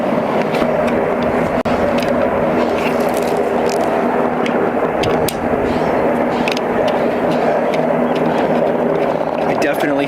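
Distant helicopters working to set power poles, a low continuous rotor drone far off behind steady outdoor noise at a ranch, with people talking over it.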